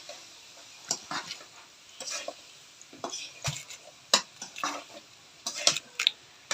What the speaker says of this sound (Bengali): এখন ভালোভাবে নেড়েচেড়ে কষিয়ে নিব